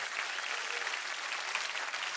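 Steady applause from a church audience at an ICF Zürich service, dense and even throughout with no break or voices standing out.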